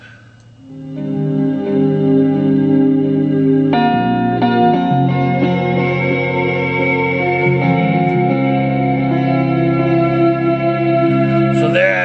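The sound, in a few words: clean electric guitar through reverb amp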